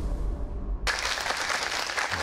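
A studio audience at an Iranian comedy show bursts into applause, a sudden wash of clapping that stays steady and fairly close for over a second.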